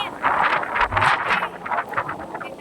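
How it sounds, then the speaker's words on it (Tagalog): Strong wind buffets the microphone in gusty, rumbling bursts, rising and falling continuously with no voices. "Lakas ng hangin, oh."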